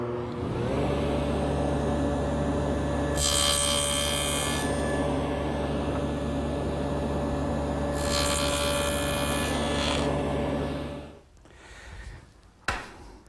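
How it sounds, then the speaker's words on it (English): Table saw with a dado head cutter cutting the edges of oak tenons for a coffee table, a loud steady motor hum with two rougher bursts as the wood passes through, then spinning down. "I can now cut the top and bottom edge of the tenons by running the piece through"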